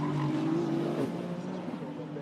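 A Ferrari 296 Challenge race car slides sideways on the Montréal circuit during qualifying, its engine holding a strained, wavering tone close by that dips slightly as the car catches the slide.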